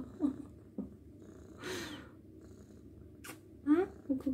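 Soft, close purring from a cat, a low steady rumble broken by brief breathy snorts, with quiet speech in the background.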